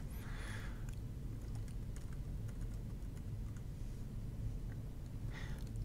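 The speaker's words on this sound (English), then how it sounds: "From here, I can go ahead and type in some keywords for my search concept." Keywords typed on a computer keyboard, a steady stream of light, soft key clicks that is faint and close over a constant low hum.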